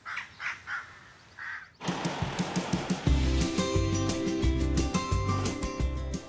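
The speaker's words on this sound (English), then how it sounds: "Even the crows are laughing at you." Crows caw in a garden setting, a few harsh calls coming through after a sudden shift in background noise, loud against a dense, rumbling backdrop.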